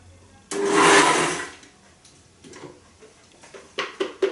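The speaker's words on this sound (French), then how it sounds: "Et là, attention à ne pas trop le mixer." A blender briefly pulses basil for a provençale sauce, one loud whirring burst of about a second that winds down, followed by scattered knocks and clicks.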